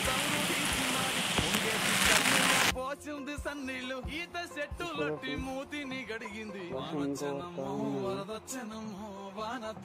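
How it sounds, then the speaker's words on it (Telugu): Rain falls in a village with a dense, steady hiss for the first few seconds, then a person talks over it while the rain continues faintly underneath. "వర్షం ఎలా పడుతుందో"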